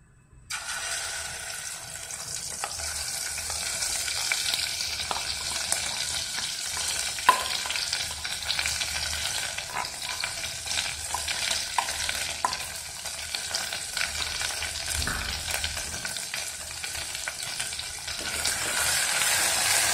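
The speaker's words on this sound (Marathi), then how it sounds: "तो पण चांगला खरपूस तेल सुटेपर्यंत भाजायचा" Ground masala paste fries in hot oil in a pot for mutton curry, a steady close crackling sizzle with the scrape and clatter of stirring running throughout, no voices.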